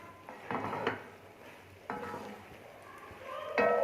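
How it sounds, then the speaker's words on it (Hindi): Cooked egg gets stirred into keema curry in a pot, with a few scraping spoon strokes and soft clinks against the pan over a faint background sizzle. "अब मैं इसको करती हूँ कीमे में मिक्स"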